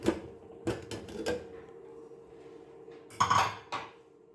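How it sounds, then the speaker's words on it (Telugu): Metal pressure cooker lid being twisted open after cooking dal, a few sharp clanks and clinks of steel on steel, spaced apart with a quiet gap, then a final cluster of ringing metallic knocks, close and alone. "ఇప్పుడు కుక్కర్ చల్లారింది, ఓపెన్ చేస్తున్నాను."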